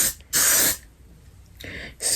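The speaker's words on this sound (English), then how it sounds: "we're gonna go back in with our Got To Be spray" Got To Be hair spray is sprayed onto a lace front wig's hairline in two long hissing bursts separated by a quiet pause, with a third burst beginning at the very end.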